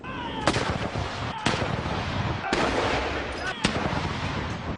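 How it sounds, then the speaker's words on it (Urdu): Artillery gun salute fired in Green Park, London, marking a royal birth: about four heavy booming reports spaced roughly a second apart, each echoing out over a continuous rumble of background noise. "لندن کے گرین پارک میں 41 توپوں اور ٹاور آف لندن پر 32 توپوں کی سلامی دی گئی۔"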